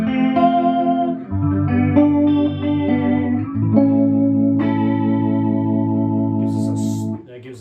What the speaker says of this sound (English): That gives us like a super nice, almost 70s chorusy feel.